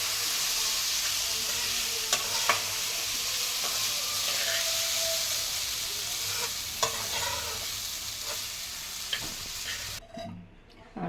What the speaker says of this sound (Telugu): రుచికి సరిపడిన సాల్ట్ చల్లుకొని బాగా మిక్స్ చేసుకోవాలి